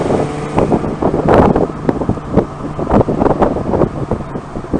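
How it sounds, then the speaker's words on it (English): Honda Valkyrie motorcycle idling on stock mufflers with the ends cut off, giving a louder exhaust: an uneven, throbbing low burble with wind buffeting the microphone, heard close with no talk. "this has really got the stock mufflers on it. The piggy's been cut off, so it's a little bit louder than normal"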